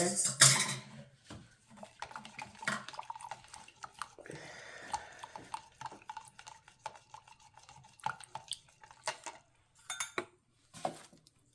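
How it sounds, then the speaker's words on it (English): A homemade brightening toner mixture being stirred in a container, with clinking utensil taps and scrapes against the vessel, some light liquid swishing, close and fairly quiet. "I'll continue to stir."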